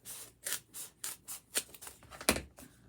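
Scissors snipping through card for a handmade padded card, about eight rhythmic close-up cuts in quick succession, each a crisp rasping stroke.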